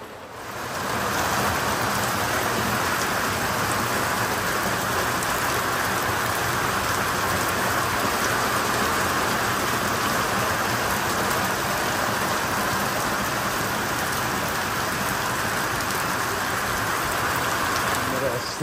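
Heavy rain and hail pour down steadily, a loud dense hiss of water drumming on surfaces without letup.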